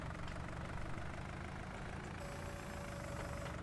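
Tractor engine in Farming Simulator 19 running at a steady low idle, a faint, continuous rumble with a thin whine joining partway through, no talking.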